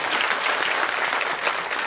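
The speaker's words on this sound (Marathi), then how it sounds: "त्यांच्यासाठी आपण जोरदार टाळ्या वाजवा" A crowd gives loud, sustained applause for the sculptor of an Ahilya Devi statue, a thick even wash of clapping with no speech over it.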